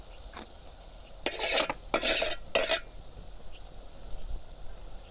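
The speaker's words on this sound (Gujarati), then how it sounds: "ટમેટા લીલી ડુંગળી આ બધું વઘારમાં પકવે છે" Tomatoes and green onions fry in a tempering of hot oil, with three short bursts of stirring and sizzle against a quiet background and no speech.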